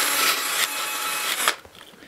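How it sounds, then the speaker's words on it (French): A wire brush scrubs hard at a rusty part on a Renault Twingo, a loud, close, continuous scratchy rasping in quick strokes that stops abruptly near the end, leaving quiet handling noises. "un bon coup de brosse métallique là-dedans"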